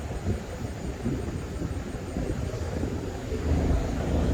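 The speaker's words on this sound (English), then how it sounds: "there's a helicopter flying over" A military helicopter passes overhead near a base, a distant low rumbling drone that slowly grows louder across the clip, heard alone without speech.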